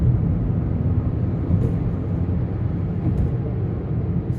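A Honda Amaze with a manual gearbox cruises in fifth gear at around 80 with a steady low engine and road rumble heard from inside the insulated cabin, constant and unbroken, with no talk.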